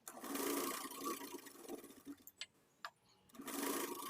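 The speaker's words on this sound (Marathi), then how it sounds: "आता डबल शिलाई घालून टक्स शिवून घ्यायचं आहे" A sewing machine runs in bursts, stitching double rows of tucks on a blouse, pausing briefly in the middle before starting up again close by.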